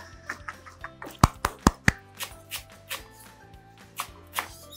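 Pumpkin (ugu) leaves being chopped with a knife on a board in a home kitchen, a run of sharp, close knocks in uneven bursts, loudest in the middle, over a quiet background hum.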